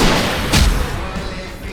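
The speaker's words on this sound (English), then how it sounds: "I can set off more of the fireworks from here and help you out!" Fireworks go off during a fight in the video game Alan Wake Remastered. A single heavy boom lands over a dense, noisy game soundscape, loud and close.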